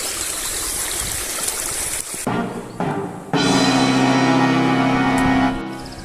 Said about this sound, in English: river crossing.